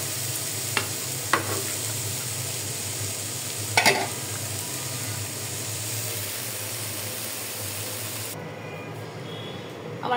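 Onions sizzle steadily in a hot pan, a constant close hiss broken by a few sharp clicks of stirring, with no voices.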